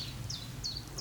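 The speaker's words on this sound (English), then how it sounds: "You can hear the birds chirping in the background." Small birds chirp around a quiet French village, three faint, brief high tweets spaced out over a low steady background hum, distant and soft.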